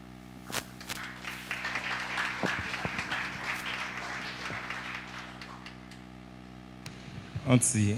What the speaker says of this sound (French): Applaudissez très fort s'il vous plaît